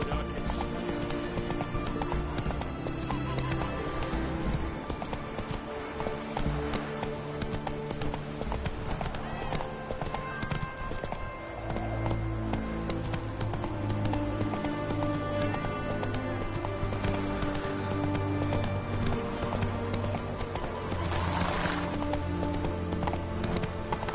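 Roach, the horse in The Witcher 3, gallops in steady rapid clip-clop hoofbeats with an occasional whinny, set against a continuous, loud game music score throughout.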